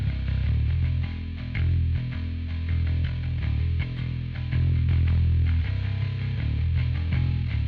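Bass guitar played through a Fuzzrd fuzz effect, a thick, distorted, buzzing bass line running continuously and loud throughout, with no voices.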